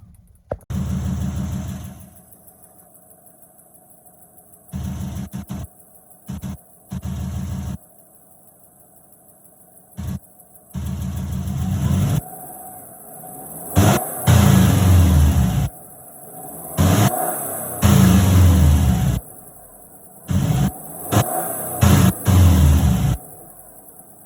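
A 2004–2006 Subaru Forester XT fitted with a Cobb SF intake, heard from outside the car: idle broken by repeated revs and bursts of acceleration, loud and close, with choppy gaps between pulls.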